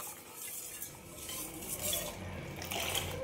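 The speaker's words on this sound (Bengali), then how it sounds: "এইভাবে নাড়াচাড়া করে যেতে হবে" Boiled milk stirred in a pot to cool it, a spoon repeatedly scraping and clinking against the metal in a steady close rhythm over a soft liquid swish.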